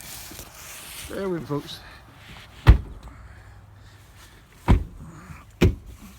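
A door on an old Chrysler Imperial in a junkyard is swung shut. Three sharp slams land a few seconds apart, close by, after someone speaks briefly.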